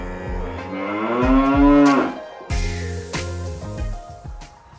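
Cattle moo loudly and nearby in long drawn-out calls, several cows overlapping with a few shorter lows, outdoors with no talking.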